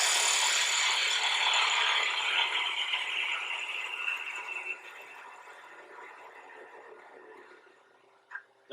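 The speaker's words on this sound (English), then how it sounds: "does these peel cuts very nicely because I'm rubbing a bevel and I have a sharp edge" A bedan lathe tool peels shavings from spinning wood, a continuous rasping, ratchety hiss that is loud at first and gradually fades, ending with a couple of sharp clicks.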